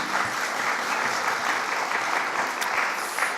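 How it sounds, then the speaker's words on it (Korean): A church congregation claps together during an Easter sermon, a dense, steady wash of applause from many hands that fills the room for the whole stretch. "우리 하나님께 영광의 박수 함께 돌리겠습니다."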